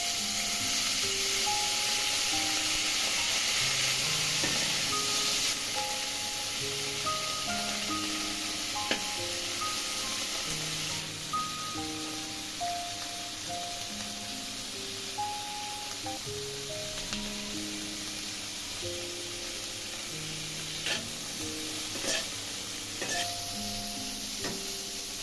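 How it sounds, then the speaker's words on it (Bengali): Cauliflower fries in oil with green chillies, black cumin, salt and turmeric, a steady soft sizzle running throughout beneath louder background music, with no talking. "এবার ফুলকপিগুলো দিয়ে ভালো করে ভেজে নেব"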